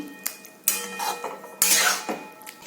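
A spoon scrapes and clanks against a pan while boiled egg is mixed into chicken bharta, giving several sharp metallic knocks and scraping strokes spaced unevenly over a few seconds.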